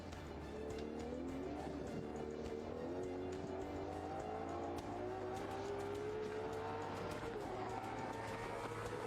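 A limited-edition V12 car with traction control off revs hard and shifts through gears, its engine note climbing and dropping in a loud, continuous roar with a tire squeal.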